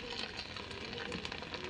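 Fried potatoes dropped into a frying prawn curry with ginger-garlic paste give a soft, continuous sizzle, faint and steady throughout with no clear voice.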